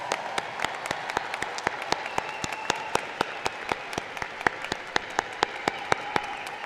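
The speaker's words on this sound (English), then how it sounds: "A big round of applause." A graduation ceremony crowd applauds, a wash of clapping with one nearby pair of hands beating a quick, steady rhythm above it.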